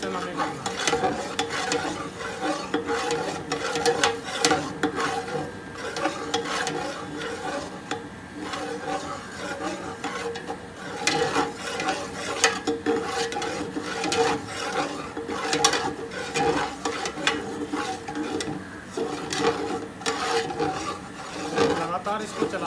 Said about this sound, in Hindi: लगातार इसको चलाते रहें, बेसन को छोड़े ना, वरना बेसन जल जाएगा।